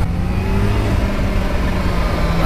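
A supercharged Kawasaki Ninja H2 SX motorcycle engine pulls hard at speed on the open road, a loud, steady drone with a rising tone throughout and no talking.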